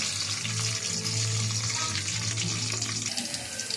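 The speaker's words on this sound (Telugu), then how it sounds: "ఇలా ఫ్రై చేసుకోవాలి" Bitter gourd slices frying in hot oil in a pan, a steady, close sizzle with a bubbling hiss running continuously throughout, no talk over it.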